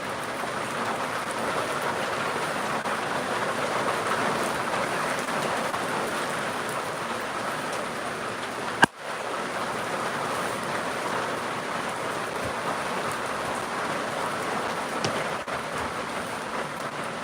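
Steady rain pours outdoors, a dense continuous patter of drops on surfaces at even loudness throughout, broken once midway by a single sharp click, with no talking.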